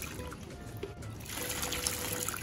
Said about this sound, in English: Take your hot water, just pour it over the crease.